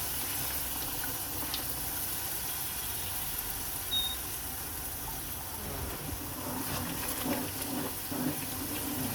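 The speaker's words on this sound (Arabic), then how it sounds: "تزيد بشوي بشويه الماء" Hot water is poured gradually into a pot of molokhia, giving a steady, continuous close gush and trickle with no talking.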